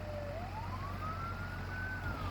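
A fire truck siren wails in Samarinda, its tone sliding slowly upward and holding high, heard at a distance over a steady low engine rumble.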